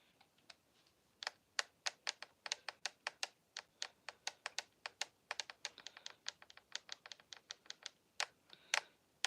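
Rapid clicking of a cheap Nintendo Switch game controller while playing Minecraft, a quiet close series of sharp irregular taps in bursts, alone without voices.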